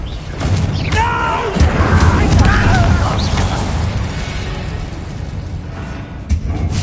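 A Confringo spell explodes in a Harry Potter video game, a loud booming blast with a rumbling roar that swells and then settles into a sustained low wash, with a brief thump near the end and voices heard during it.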